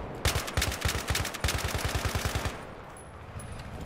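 Rapid automatic rifle fire from an AK-74 in Battlefield 3 multiplayer on Sharqi Peninsula, a loud rattling burst of about twenty shots lasting over two seconds, then fading to quiet ambience with faint distant sounds.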